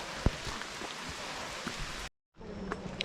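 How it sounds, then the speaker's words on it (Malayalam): Light drizzle on a misty forest trek, with large drops falling from the trees: a steady soft patter with a few sharper drop hits, briefly cutting out near the end. "വളരെ ചെറിയൊരു ഡ്രിസിലിംഗ് ആണ് ഇവിടെ കുറച്ച് മഴങ്ങളൊക്കെ ഉണ്ട് മരങ്ങളിൽ നിന്ന് വലിയ തുള്ളി ഇട്ടിട്ടുണ്ട്"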